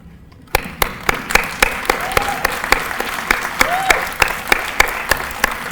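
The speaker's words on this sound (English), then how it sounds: "I would like all the graduates to stand and applaud all of those who supported them" Sharp, evenly spaced claps ring out in a steady rhythm, an audience at a nursing pinning ceremony clapping together in unison, with faint murmurs underneath.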